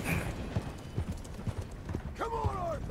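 Horse hooves clip-clop at a steady ride pace in Red Dead Redemption 2, a close rhythmic series of hoof strikes, with someone talking over them and a whinny-like tonal call near the end.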